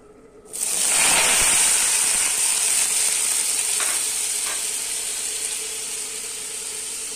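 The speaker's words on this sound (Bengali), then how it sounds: "আলুটা একটু আস্তে আস্তে ভেজে নেব" Potatoes dropped into hot oil on a gas stove, a sudden loud sizzle that erupts and then settles into a steady, slowly fading frying hiss with a few faint clinks.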